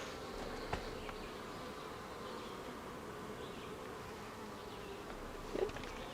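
Honeybees buzz in a steady, moderately loud drone throughout a hive inspection a few days after a colony split, with a couple of brief handling knocks near the start and end.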